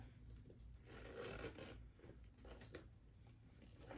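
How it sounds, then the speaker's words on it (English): A zipper on a vintage clutch bag is drawn closed in short rasping strokes, close and fairly quiet, with a steady hum underneath and no speech. "you can basically zip it all the way up and it just becomes a clutch bag"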